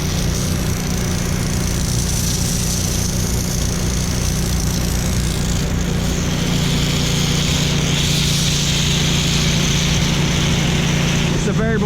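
A gasoline engine on a hot-water pressure washer runs steadily and loud, a continuous droning hum throughout with a voice talking over it.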